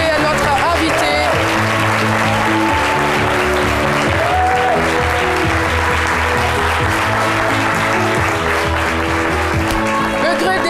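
A television studio audience applauds a guest on a midday talk show, loud sustained clapping blended with upbeat music, with voices speaking over it.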